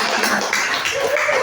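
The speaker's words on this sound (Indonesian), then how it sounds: "Kasih tepuk tangan" Classroom audience claps after a group presentation on supply chain management, a brief, steady patter of many hands with no clear individual beats, fairly close, alongside a faint voice.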